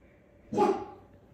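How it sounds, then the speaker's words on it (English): A single short dog bark, fairly close, breaks an otherwise quiet room. "That's my dog. Now he might start barking."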